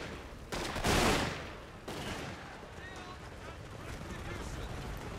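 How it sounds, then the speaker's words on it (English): Gunfire erupts in the Total War battle game Fall of the Samurai, with a loud volley about a second in, then continuing rumbling battle noise throughout. "now they're shooting me"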